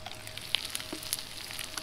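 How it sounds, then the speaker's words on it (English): Wild trout frying in butter in a pan outdoors beside a small stream gives a steady, moderately quiet sizzle, with scattered crackling pops over the top. "it's frying up nicely"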